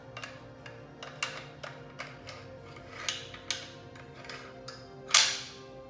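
A rifle bolt is dropped into its receiver. A run of light metallic clicks and ticks ends in one sharper, louder clack as it seats, all close and quiet.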